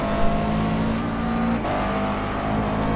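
Car on a race track accelerating hard and shifting up early into third gear, a loud continuous engine drone close up that drops in pitch at the gear change and then climbs again.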